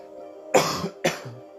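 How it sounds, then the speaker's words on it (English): Two quick, close coughs from a man with a tickle in his throat, sharp and separated by a short pause over a faint electrical hum, with no speech. "If you hear me coughing, forgive me."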